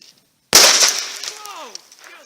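A sharp, loud crack as a 38-55 rifle shot bursts a melon outdoors, followed by a scattering splatter and decaying echo, with a brief voice after the blast.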